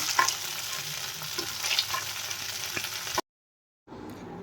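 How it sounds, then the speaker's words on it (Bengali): Paneer pieces fry lightly in hot oil, giving a continuous close sizzle that cuts out briefly and then resumes more faintly; no voices are heard. "মোটামুটি হালকা জাস্ট ভেজে নিতে হবে ভেজে তুলে নিতে হবে"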